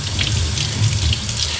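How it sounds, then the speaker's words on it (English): Paint being rinsed out of a brush under a running tap into a sink, a loud, steady, close gush of water with no voices over it. "and then I just rinse it out with water."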